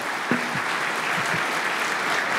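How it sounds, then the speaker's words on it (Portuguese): A conference audience applauds the members of a panel on operational efficiency, a brief burst of dense, steady clapping from many hands with no pause. "com o carinho do nosso aplauso, agradecer aos integrantes deste painel"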